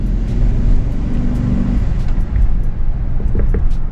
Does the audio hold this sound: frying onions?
no